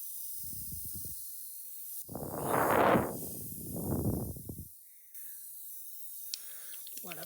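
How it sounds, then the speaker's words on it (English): A mist sprayer hisses in two loud, close bursts, the second trailing off more slowly, after a brief lower puff. Faint background noise fills the gaps. "It's the mist sprayer."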